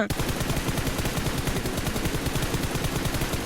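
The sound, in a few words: gunfire in a PUBG video game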